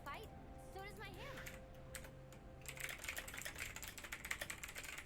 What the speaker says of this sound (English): Just typing to my teammates right now